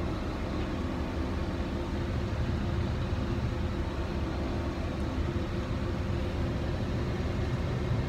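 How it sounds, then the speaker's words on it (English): A steady, dense engine roar fills the cab of a 2016 Volvo A25F off-road dump truck, continuous and loud with no pauses and no talking. "A25F series off-road dump truck."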